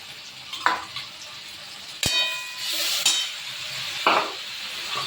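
Onion and black cumin seeds fry in hot oil with a soft sizzle, broken by sharp metallic clangs and scraping from a spatula stirring against the pan.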